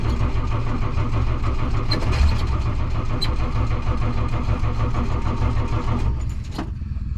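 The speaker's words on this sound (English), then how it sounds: "Just need to get a little bit of fuel to her, but she fired right up." A 1963 Plymouth Belvedere, being started after long storage, runs with a loud, steady engine roar close by. It fluctuates slightly with the throttle, then drops off near the end.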